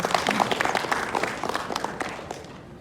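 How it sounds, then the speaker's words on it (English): An event audience applauds at a ONE Championship boodle feast; dense clapping starts strong and gradually thins and fades. "Please give yourself a round of applause for coming here"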